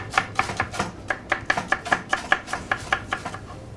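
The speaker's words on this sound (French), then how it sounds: "commencer à émincer les poireaux" A knife slices through leeks on a cutting board in quick, even, crisp strokes, about four per second, close and clear with nothing else heard.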